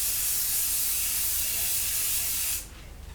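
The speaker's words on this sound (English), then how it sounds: "all I would do is get a spray adhesive" A loud continuous spray of aerosol spray adhesive hisses for about two and a half seconds, then cuts off abruptly, leaving faint background noise.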